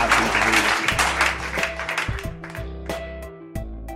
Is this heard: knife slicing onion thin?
no